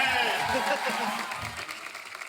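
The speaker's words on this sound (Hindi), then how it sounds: "जोरदार तालियां कृति के लिए।" A studio audience claps for an arriving guest on a TV comedy talk show, a dense wash of applause that is loud at first and tapers slightly, with no one speaking over it.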